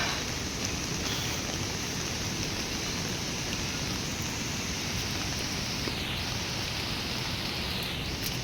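Heavy rain pours steadily during a long downpour, a dense, even hiss of water that stays constant and loud throughout without breaks or voices.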